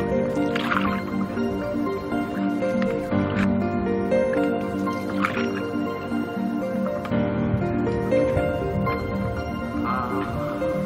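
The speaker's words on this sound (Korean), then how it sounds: "진짜로 물소리밖에 안 들려요. 노젓는 소리라." Oars paddle water on a small boat moving through the quiet green forest channels of the Mekong Delta, with soft splashes and drips repeating every couple of seconds over a steady close murmur of water.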